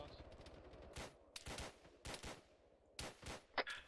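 Gunfire in the military shooter Arma 3: several sharp shots and short bursts ring out at irregular intervals, fairly close, with faint voices and game sounds underneath.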